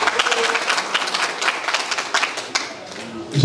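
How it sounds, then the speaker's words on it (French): Guests at a centenary celebration of the Dadji association are applauded by the crowd, a lively, uneven clatter of hand claps with some voices mixed in, tapering slightly toward the end. "Applaudissez pour eux."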